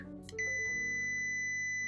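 A multimeter in continuity mode gives a steady, loud electronic beep while testing the fuse of a Sonos speaker; the tone starts abruptly and holds unbroken to the end after a brief clatter of handling.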